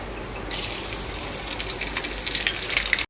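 Spice tempering with garlic, cumin and mustard seeds bursts into a loud, close sizzle in hot oil after a brief quiet start, hissing steadily for a few seconds.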